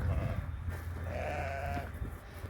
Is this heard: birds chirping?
no